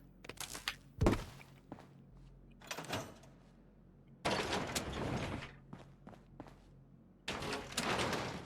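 A powered door in Fallout 76 operates with mechanical thunks and sliding whooshes, heard as a few sharp clunks followed by longer hissing bursts of motion, fairly close and fairly loud against a quiet background.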